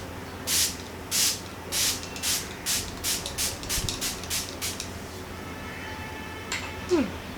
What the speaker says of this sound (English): So now let's spray it on my face.